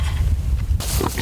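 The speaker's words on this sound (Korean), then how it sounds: "또 돼지들이 도토리를 찾아다니느라 운동을 많이 하기 때문에 근육도 적당히 발달하게 되고요." Pigs grunt and snuffle while foraging for acorns outdoors, close and steady over a rumbling background with a brief burst of rustling noise.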